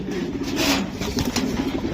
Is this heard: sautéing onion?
no